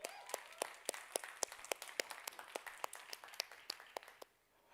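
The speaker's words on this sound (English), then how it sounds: "That definitely deserves a huge round of applause." Sparse audience clapping at a television show launch event, a few distinct hand claps in an uneven rhythm, fairly quiet and close, fading out near the end.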